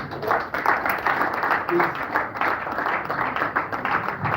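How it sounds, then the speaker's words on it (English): Applause from an audience at a business luncheon, a dense, steady wash of many hands clapping that continues throughout with small swells, fairly loud and with no talk over it. "A better round of applause, please."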